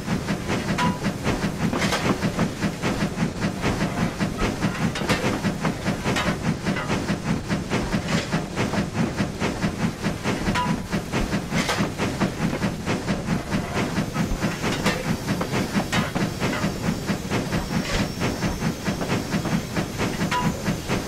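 Peppercorn K1 steam locomotive in Train Simulator 2016 on the West Highland Line, a loud continuous steam hiss and chuffing rumble with faint rail clatter, steady throughout with no talk.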